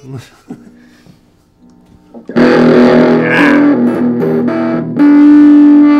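Quiet voices and a few plucked notes, then a heavily distorted electric guitar blasts in loud through an amp, ringing out in big sustained chords.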